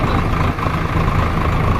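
Steady heavy diesel engine drone of a tractor on a national highway, continuous and fairly loud throughout with no speech.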